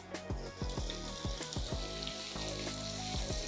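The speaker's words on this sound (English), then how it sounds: "I'm now going to add the shrimp that we seasoned." Seasoned shrimp hit hot olive oil in a pan for chili garlic gambas al ajillo, setting off a steady, close sizzle with small popping crackles throughout.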